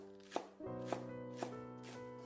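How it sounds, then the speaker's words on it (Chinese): A knife chops a bunch of washed scallions into small pieces on a board, a few quiet, evenly spaced cuts heard close up under a steady tonal background hum. "接下来准备一把洗干净的小葱，切成葱花。"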